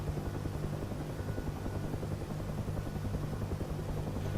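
A Huey helicopter hovering in the DCS flight simulator game, giving a steady, loud rotor thump and turbine drone that continues unbroken for the whole stretch, with no voices.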